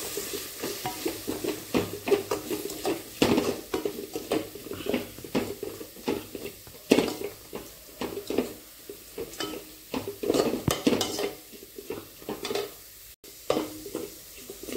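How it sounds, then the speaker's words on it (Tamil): A utensil stirs spices repeatedly in a pan for paruppu urundai kulambu, with soft scraping and a light sizzle, close and steady with no talking. "இதை நல்லா மிக்ஸ் பண்ணிக்கலாம்."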